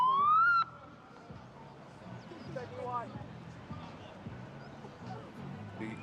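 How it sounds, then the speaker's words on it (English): A loud rising siren wails for about half a second before kickoff of an under-18 rugby sevens match, then cuts off, leaving crowd murmur and commentary talk over a busy outdoor field. "We get the siren"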